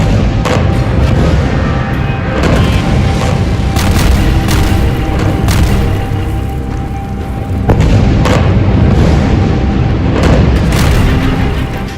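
Heavy, continuous rumbling booms from an air bombardment of Gaza, loud blasts overlapping in dense succession with sharp cracks and a constant roar between them.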